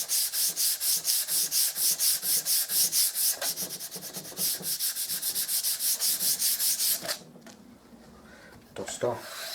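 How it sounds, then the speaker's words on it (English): Rhythmic back-and-forth sanding strokes on a primed MDF board, loud and close, roughly a dozen fast passes that speed up before a pause and a few scattered scrapes near the end. "Took a bit more sanding"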